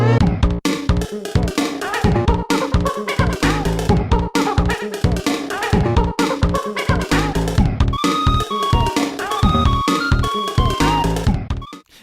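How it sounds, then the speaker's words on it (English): Diddy Kong's stage clear jingle from the Donkey Kong Country 2 video game, a loud, bouncy, full-band music cue that plays continuously for about twelve seconds before cutting off. "Diddy's stage clear sounds like this."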